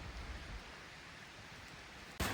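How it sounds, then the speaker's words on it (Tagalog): Rain falls outdoors in a pine-tree area, a soft, steady hiss of drops that stays faint throughout and ends in a brief louder rustle. "Umuulan"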